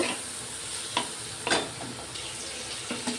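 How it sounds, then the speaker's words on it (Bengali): Chopped pumpkin with onion fries in a pan, a soft steady sizzle broken by a few scraping stirs, close and quiet with no voices. "এবার আর একটু পেঁয়াজ কুচি দিয়ে আমি কুমড়োটা ভেজে নেব।"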